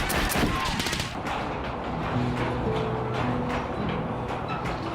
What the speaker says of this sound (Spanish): Disparos de bala viva en la pared de arriba